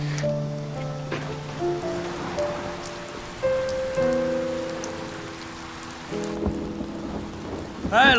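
Heavy rain pours steadily at a street-side stinky tofu stall at night, a dense hiss running beneath a melodic musical score throughout.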